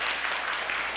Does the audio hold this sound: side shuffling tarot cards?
no